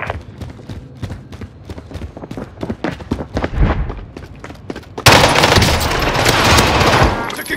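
Rapid bursts of automatic gunfire in Call of Duty Warzone on Rebirth Island, a rattling string of sharp shots that turns into a loud, dense wall of sustained fire for the last couple of seconds.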